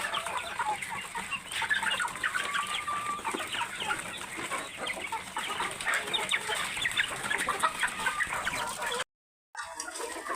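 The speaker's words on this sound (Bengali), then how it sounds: "এই যে আমার পাহাড়ি মুরগি তারপরে এই দেখেন এই অষ্ট্রেলিয়ার পুলেট মুরগি" Hill chickens and Australian pullet hens clucking steadily at close range in a poultry yard, a dense continuous chorus of overlapping clucks and squawks with some wing movement, cutting out briefly near the end.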